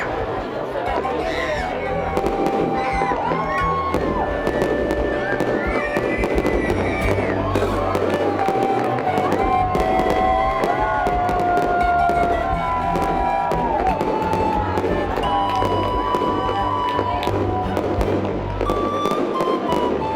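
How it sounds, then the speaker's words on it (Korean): Fireworks bursting continuously with crackles and booms at an Independence Day display in Alaska near midnight, while a crowd chatters and talks throughout. "드디어 불꽃놀이가 시작됐다"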